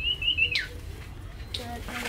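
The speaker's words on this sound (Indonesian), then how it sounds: "Langsung berkicau. Burung." Small birds just released into a mini aviary in front of a house give brief high chirps and a short whistled call, close and clear over a low background hum.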